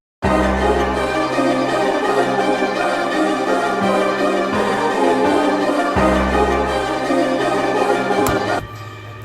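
Melody parts of the hip-hop beat play together as a dense, steady layered loop, loud and continuous with sustained tones and low bass hits, fading out in the last second.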